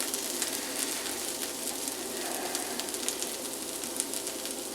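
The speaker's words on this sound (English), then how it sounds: "you want those potatoes to take their time frying" Potatoes fry slowly in a home kitchen pan, a steady, soft sizzling hiss with faint crackles throughout, moderately quiet and uninterrupted.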